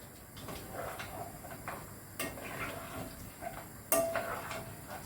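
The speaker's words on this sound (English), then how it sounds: "Let's give that a stir" A spoon stirs a sauce in a pan for steak and ale pie. Quiet scraping and rustling is broken by a few sharp clinks and knocks of the utensil against the pan.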